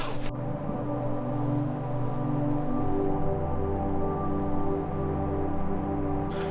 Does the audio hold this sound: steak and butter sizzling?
no